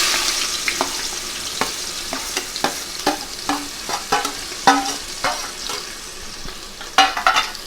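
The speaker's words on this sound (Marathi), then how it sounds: "कांदा छान आपल्याला परतवून घ्यायचा आहे। कांदा आपल्याला ट्रान्सपरंट होईपर्यंत परतवायचा आहे।" Finely chopped onion frying with spices in a pan for chicken biryani: a steady low sizzle under repeated scraping and knocking of a spoon during stirring, irregular strokes roughly every half second, close and fairly loud, no talking.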